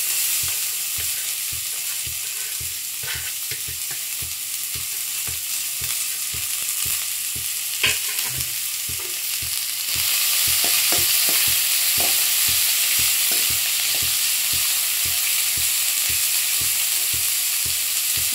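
Onions and coriander fry in a pan, a steady bright sizzle running throughout with a rhythmic scrape of a spoon stirring every half second, growing slightly louder partway through.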